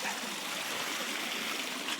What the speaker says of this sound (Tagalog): Medyo malakas ngayon ng tubig.